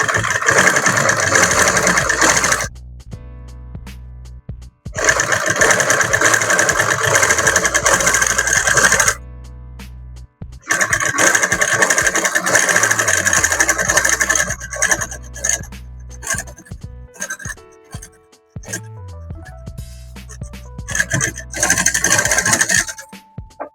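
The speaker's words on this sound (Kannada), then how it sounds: "ಆ ಹೊಲಿಗೆ ಮೇಲೇನೆ ನಿಧಾನಕ್ಕೆ ಇಟ್ಕೊಂಡು ಹೊಲ್ಕೊಂತ ಬರಬೇಕು." Sewing machine stitching along the old seam of a shirt collar being repaired, running in loud bursts of steady whirring separated by short pauses, close up with no talk.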